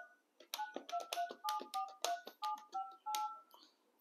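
Buttons are pressed one after another on a GSM fixed wireless desk landline phone, producing a steady series of about a dozen short DTMF beeps with soft key clicks, close and clear in a quiet room.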